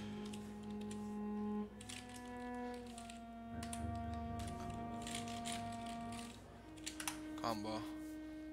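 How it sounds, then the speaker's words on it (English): Slow, sparse keyboard clicks from one-handed typing on a computer keyboard, set against sustained musical tones and background sound, with a few sharper clacks near the end. "Typing with one hand, so that's why I'm being so slow."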